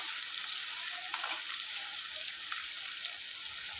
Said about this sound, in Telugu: ఇప్పుడు ఇది కొంచెం ఆయిల్లో ఇట్లా ఫ్రై చేసుకోవాలి.